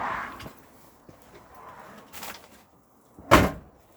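The door of a 2017 Compass Camino 644 caravan, opened with a few soft knocks and rattles followed by one sharp, close latch clack near the end.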